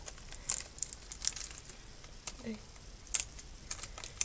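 Soft, brief crinkles of a thin plastic bag being handled, a few sharp rustles scattered across a quiet background.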